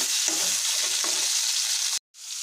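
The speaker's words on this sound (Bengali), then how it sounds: "এদিকে সবজিগুলো ফ্রাই করে নিচ্ছি। ফুলকপিটা প্রায় ফ্রাই হয়ে গেছে।" Cauliflower and carrot fry in a pan with a steady, close, dense sizzle and a few soft stirring knocks, ending abruptly after about two seconds before the sizzle resumes more quietly.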